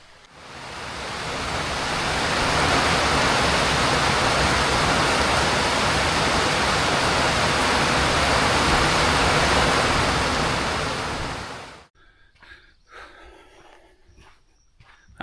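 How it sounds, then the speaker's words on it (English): A rainstorm at a mini cabin in the middle of being fitted with a rain catchment system. Dense broadband rain noise swells loud and holds steady for about ten seconds, then cuts off abruptly, leaving faint scattered sounds. "a nice little rainstorm came in"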